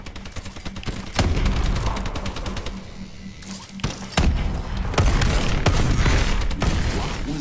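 Automatic turrets in Exo Zombies fire in rapid, continuous bursts of loud gunfire with heavy thumps, easing off briefly in the middle before the barrage picks up again.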